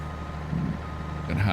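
A truck in the Farming Simulator game backs into a shed, its low engine hum running steadily with a reversing beep near the end, under faint background noise.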